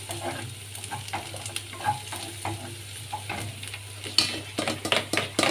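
Peppers and onion sautéing lightly in a pan, a low steady sizzle with repeated soft scraping stirs and a few sharper utensil clacks toward the end, close by with no talking.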